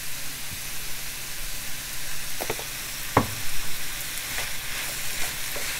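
Chicken noodle stir-fry with Chinese sauce sautés in a hot pan. A steady, close sizzle hisses throughout, broken by a few sharp utensil clinks and knocks near the middle.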